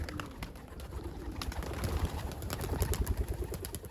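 Racing pigeons in a loft give soft, repeated coos and rustles that build slightly louder toward the end, heard close and alone with no talk.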